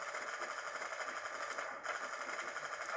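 Rapid, continuous MP5K submachine gun fire from Call of Duty: Black Ops, heard as a dense, steady, mechanical-sounding stream of shots. It holds at an even loudness with a brief dip near the middle and no talking.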